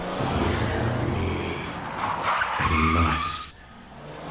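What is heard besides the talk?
Porsche engine revving as it drives off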